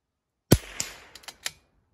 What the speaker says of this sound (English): we'll try to shoot this 1-inch target